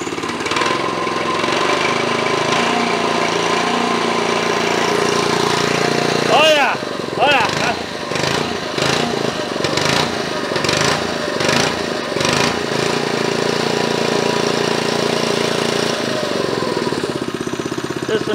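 Predator small engine running on a Coleman go-kart, a steady loud mechanical drone throughout with a burst of revving partway, while people talk over it.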